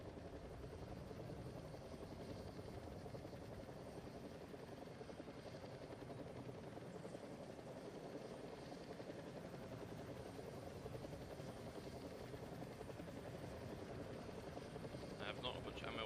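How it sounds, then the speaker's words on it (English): A helicopter's steady rotor drone in the video game ArmA 3 fills the scene continuously, with game-like ambience and faint distant activity layered over the low thrum. "Guess this helicopter we're getting into."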